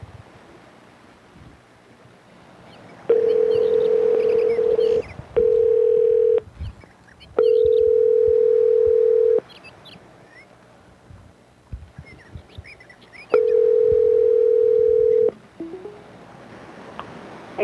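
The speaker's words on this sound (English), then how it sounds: "he's calling, like, right now" Steady telephone ringback tone, a pulsed single-pitch signal heard in three loud bursts of about two seconds each, separated by quiet gaps with faint background noise.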